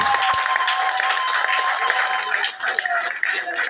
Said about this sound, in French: Est-ce que vous pouvez applaudir pour Odile?